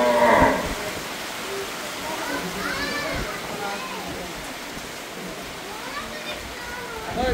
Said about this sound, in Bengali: খুব সুন্দর একটা গরু।